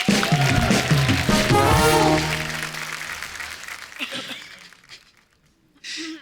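Studio audience applause and cheering on a comedy talk show, loud and dense for about two seconds, then thinning out and fading into scattered, quieter clapping.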